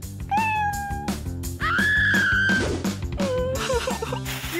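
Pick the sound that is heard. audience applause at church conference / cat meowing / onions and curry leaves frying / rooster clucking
cat meowing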